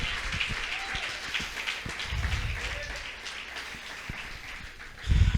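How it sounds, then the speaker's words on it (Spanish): Church congregation applauding during a Spanish-language sermon, a steady patter of clapping at moderate level with low thumps and louder bursts near the end, no voice over it. "Vamos, dale un aplauso a tiempo."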